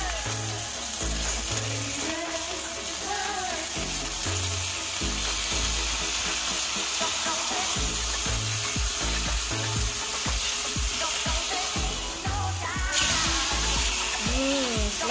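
US Angus steak sizzles loudly in a pan, a constant close frying hiss with low thumping music underneath and soft voices now and then.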